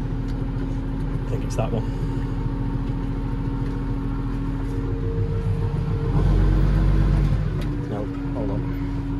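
A Case 1455 tractor engine runs steadily after a cold revving, with a low, even diesel drone and a brief swell partway through, while people talk nearby.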